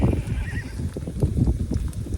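A horse whinnies and grumbles close by, low snorting rumbles running through the whole moment, with a brief higher squeal near the start.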